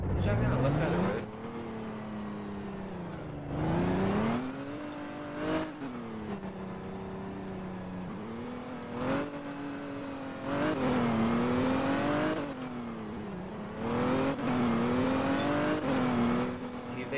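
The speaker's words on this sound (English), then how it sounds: "He's driving on the left side of the road." A car drives along a road in a sheriff video game, its engine droning and repeatedly revving up and easing off across the stretch, with a person talking over it throughout.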